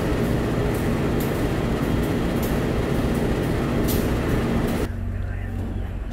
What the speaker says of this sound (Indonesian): Jam 12 lebih 20 kereta Malioboro Express sudah tiba di stasiun Kediri